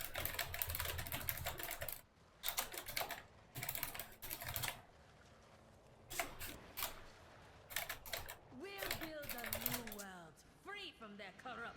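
Rapid bursts of computer keyboard typing clatter in quick clusters separated by short pauses, close and crisp, with a voice speaking in between and over the keystrokes.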